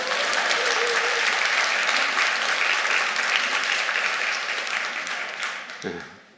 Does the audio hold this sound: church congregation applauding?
yes